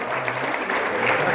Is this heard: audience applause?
yes